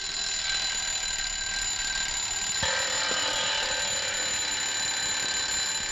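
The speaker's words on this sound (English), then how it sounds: "to be buried with her alarm clock" A mechanical alarm clock rings loud and steady from a 1940s film scene, a continuous bright jangling that runs through the whole stretch with a slight change partway, and no one speaks.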